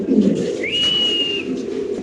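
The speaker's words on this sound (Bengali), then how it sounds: "মাশাআল্লাহ এখানে আছে একটা ব্রোঞ্জ মডার্না কবুতর" Bronze Modena fancy pigeons at a large pigeon farm give a soft, low cooing with a thin whistle-like tone rising midway, continuous and fairly close for about two seconds, with no talking.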